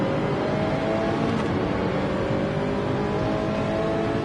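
A Porsche race car launching at a race start in a racing game, a loud, steady engine drone with a rising tonal whine as it accelerates, mixed with other cars and no talk.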